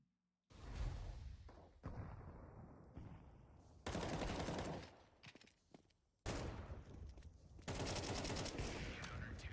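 Automatic AK rifle fire in Counter-Strike: sustained rattling bursts broken by short pauses, loud and close, with thumps and whooshes between volleys.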